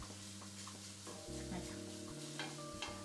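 Tomato paste for a taco chili soup sizzles and browns in a pot: a faint, steady frying crackle under background music.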